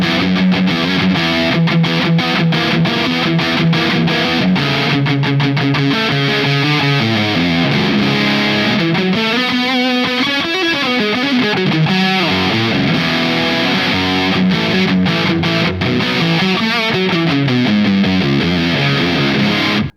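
An electric guitar through a BOSS DS-1 distortion pedal with the level turned all the way up plays a continuous riff of sustained, gritty chords and rapid picked notes, loud and steady throughout.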